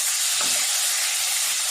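Green chillies and peas for an aloo samosa filling sizzle in a pan: a steady broadband hiss with a brief louder surge near the start, then an even sizzle throughout, with no voices.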